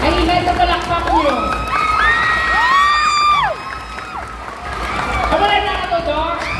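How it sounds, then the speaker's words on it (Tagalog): A festival crowd with many children cheers, whoops and shouts at the Pasigabong festival, loud and continuous, with a brief dip midway before the noise swells again. "Ay, ingay na palakpak niyo."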